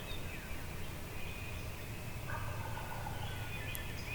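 Faint wild turkey gobbles carry from far off across a valley during spring hunting season on a ridge, a distant rattling call repeated over steady morning outdoor background noise.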